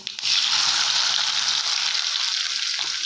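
Onions hitting hot oil with mustard seeds and cumin give a loud, steady, close sizzle throughout, with a brief onset at the start and no voices.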